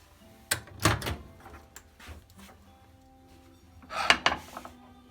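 A microwave door clicking and clunking as a Burns supper dish is set inside, with a couple of sharp knocks and handling sounds at the start and again near the end, close by.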